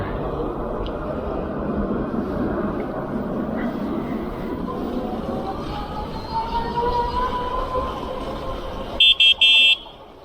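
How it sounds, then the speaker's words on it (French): A short, bright electronic horn on an Alfawise X1 electric bike beeps a few times near the end, following several seconds of muffled talking and rumbling background noise. "le klaxon est sympa, ça fait une tonalité plutôt agréable"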